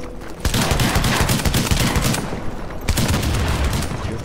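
Rapid automatic machine-gun fire in a video game, loud and close: a dense burst, a brief gap, then another sustained stream of rounds, with no talking.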